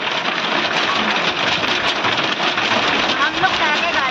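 Hailstones fall steadily during a storm at a mountain campsite in Kashmir, a dense continuous clatter and hiss of ice on surfaces, loud and close throughout with no break.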